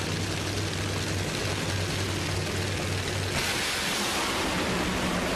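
Cruz Pedregon's funny car makes a drag race run at the 2012 NHRA Auto Club Finals, a loud, steady, broadband engine roar that fills the whole stretch without letting up.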